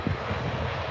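A jet aircraft touching down at RAF Lakenheath, a United States Air Force base, gives a steady broad roar with a brief louder swell at the start, loud and continuous for under a second with no talk.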